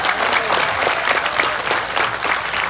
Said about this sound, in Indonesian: Tepuk tangan untuk NO kalian.